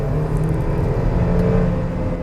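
Mercedes GLB SUV braking hard from speed, heard from inside the cabin as a steady loud road rumble and whirring drivetrain hum with no talk.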